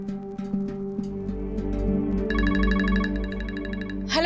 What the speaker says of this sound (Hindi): कान्हा का फोन है।